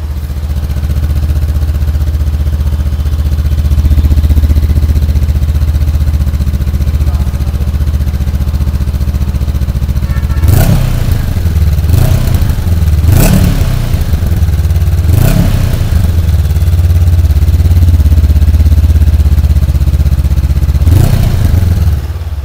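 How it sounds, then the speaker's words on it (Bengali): A 2025 Honda NX 500 adventure tourer motorcycle with a 500 cc engine runs loudly and steadily, punctuated by several sharp throttle blips and revs. "তোমরা জানাও যে এই বাইকটার সাউন্ড তোমাদের কেমন লাগলো"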